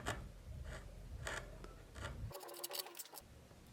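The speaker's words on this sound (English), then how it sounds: "removing about 2mm of material on the underside of the stop cut" A carving knife shaves wood beneath a stop cut while detailing a carved wood spirit's eyes, giving soft, close scraping strokes in short bursts, ending with a quicker run of crisp little cuts.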